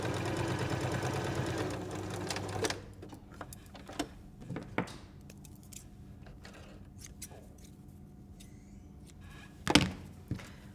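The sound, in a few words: sewing machine stitching fabric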